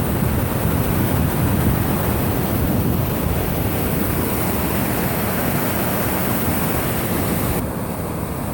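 Steady, loud rush of water pouring through a steep fish pass at a hydropower water intake, a continuous broadband roar close to the microphone with no talking.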